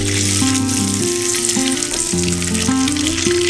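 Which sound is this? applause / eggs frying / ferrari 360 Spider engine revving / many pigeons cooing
eggs frying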